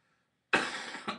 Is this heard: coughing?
yes